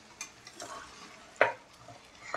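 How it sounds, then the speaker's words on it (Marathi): A pan of carrot halwa cooking down in milk is stirred, giving a few soft scraping swishes with one sharper scrape near the end over a faint simmering background, quiet and close. "कंटिन्यू आपल्याला गाजरच्या हलव्याला हलवून घ्यायचं आहे"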